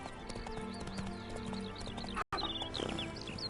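Horse hooves clip-clop steadily while a horse whinnies in a fantasy open-world game, Witcher 3: Wild Hunt, with the hoofbeats close and continuous, a brief dropout midway, then the trotting resumes.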